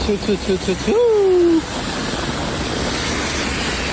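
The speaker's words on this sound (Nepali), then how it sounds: "ल पानी चाहिँ देख्न सक्नुहुन्छ, बब्बाल परिरहेछ" A voice speaks briefly at the start, then a broad, steady downpour of heavy rain in Japan continues on its own.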